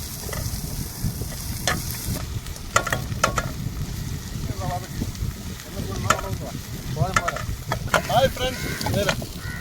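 Chopped onion and ginger sizzle steadily in hot oil in a pan for a sea snail fry, a continuous crackling hiss broken by occasional scraping stirs, with a voice talking over it at times.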